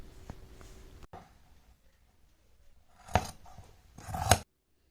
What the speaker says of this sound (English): I'm gonna cut it exactly same length.